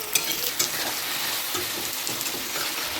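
Whole spices with salt and turmeric fry in a pan, giving a bright sizzling hiss with a couple of sharp clinks and scrapes near the start, close and moderate in level, without speech.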